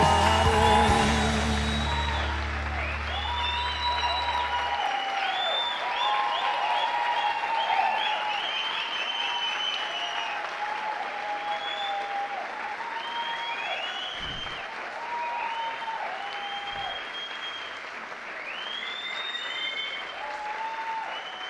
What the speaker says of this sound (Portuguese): Meus irmãos, fico feliz com os aplausos